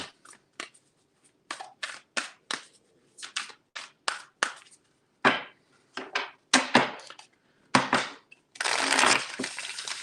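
A tarot deck is shuffled by hand in a quick series of crisp riffles and slaps, each burst short and close, ending in a longer continuous cascade of cards.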